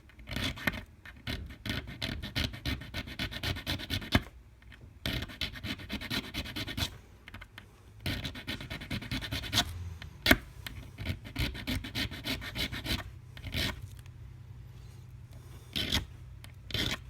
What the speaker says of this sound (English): we're going to have to match this angle with our flat file